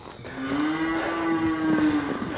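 One long, low cow moo from cattle on a farm sustains steadily for about two seconds, loud and fairly close, with no talking over it.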